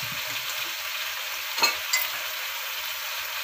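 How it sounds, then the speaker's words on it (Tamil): Sambar vegetables such as brinjal, drumstick, potato, carrot, chayote and kohlrabi sauté in hot oil, giving a soft, steady sizzle with a couple of brief stirring clatters, fairly faint and without talk. "நல்லா வதக்கி விட்டு இப்போ ஒரு 5 நிமிஷம் நல்லா அந்த காய் எண்ணெயிலே வேகட்டும்."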